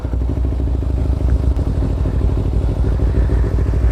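A motorcycle engine idles and runs steadily up close during a riding lesson, a continuous low rumble with light mechanical clatter and no talk over it.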